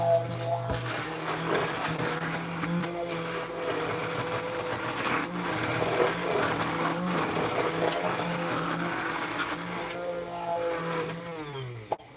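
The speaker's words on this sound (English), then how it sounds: "There's 3 parts to this blender." Kitchen blender running continuously for several seconds while making sweet potato pie, a steady close motor whine with slight pitch wobbles, winding down abruptly at the end.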